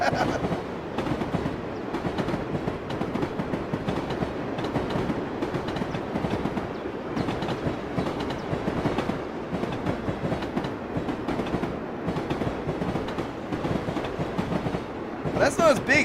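Simulated train of box cars with a caboose rolling past in Train Simulator Classic, giving a steady rumbling clickety-clack of wheels over rail joints at moderate level, with a brief brighter noise near the end.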